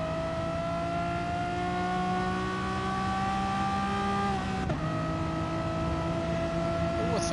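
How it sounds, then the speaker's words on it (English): Electric model touring cars in an RC race whine with steady, layered high-pitched motor tones, one pitch dropping and shifting sharply partway through like a gear change, continuous and fairly close. "But listen to the gear changes."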